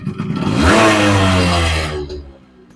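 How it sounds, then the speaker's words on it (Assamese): A modified Yamaha RX100 motorcycle is kick-started and its engine revs loudly and close by for a couple of seconds, its pitch climbing before it cuts off abruptly. "এটা কিকত ষ্টাৰ্ট হয় বাইকখন"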